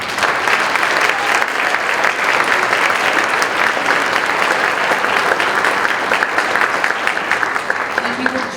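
A high school academic awards ceremony audience breaks into sustained, dense applause, a loud even roar of clapping from many hands that holds steady throughout with only slight murmuring beneath.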